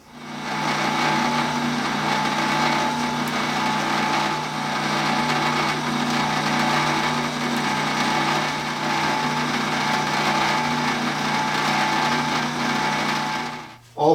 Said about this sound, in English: I'm going to go ahead and drill the other 3 holes for our tuning pegs.